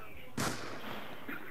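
A single sharp gunshot in a video game cracks out loud and close, its report decaying into a short tail amid low background noise.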